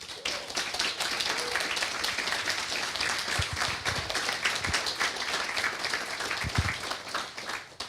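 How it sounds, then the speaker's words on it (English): Audience applauding conference organizers at a GStreamer developer conference in 2016, a steady dense wash of many hands clapping that holds for the whole stretch, with a few low thumps underneath. "A round of applause for them."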